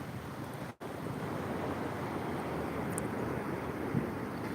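Surf breaks on a seashore, a dense, steady roar of churning water close by with a brief dropout near the start and light wind buffeting.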